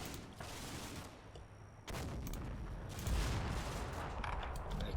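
Machine gun fire from the WWII Normandy game Combat Mission: dense, continuous volleys of rattling gunfire with heavy low rumble, holding loud across the whole stretch with a brief dip, no voices.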